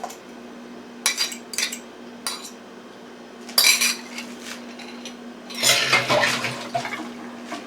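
Two eggs whisked in a bowl with a utensil, giving scattered clinks and scraping bursts against the dish over a steady low hum, with no talking.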